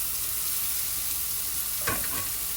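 Broccoli dropped into a pan of garlic and onion already frying: a steady hiss of sizzling oil, then a brief louder crackle and clatter as the florets go in and are stirred.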